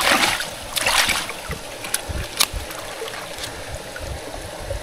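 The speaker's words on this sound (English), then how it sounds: "there's plenty of water in the stream. That's the intake down there." Stream water flowing past a hydro intake partly covered with leaves, a steady broadband rush with brief louder splashes, close by, heard without talk.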